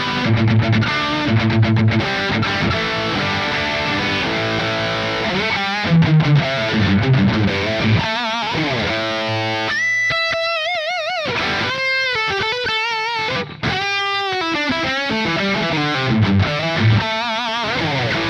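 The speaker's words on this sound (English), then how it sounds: "the JCM 800 capture that I did with the, you know, the Maxon Audio 808" Heavily distorted electric guitar, likely a Gibson Les Paul Supreme, through a JCM 800 amp capture pushed by a Maxon 808 overdrive, plays thick sustained chords and then bending lead lines. Loud and continuous, with no talking.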